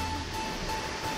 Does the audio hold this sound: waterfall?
yes